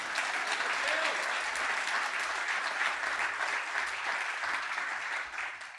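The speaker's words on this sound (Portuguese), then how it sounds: "Você pode aplaudir a Jesus de verdade," Sustained applause from a church congregation, dense and steady clapping filling the room at close range for the whole stretch, with no voices standing out.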